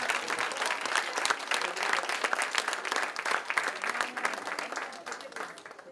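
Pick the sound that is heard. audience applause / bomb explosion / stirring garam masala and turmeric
audience applause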